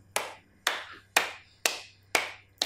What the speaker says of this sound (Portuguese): Chefinho mandou pegar a sua mão direita e a sua mão esquerda e bater palmas.